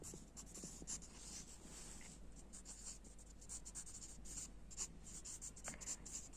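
Pen or pencil writing numbers by hand on paper during a primary school Hindi counting lesson, a steady close scratchy scrawl of strokes and taps running throughout with no talk.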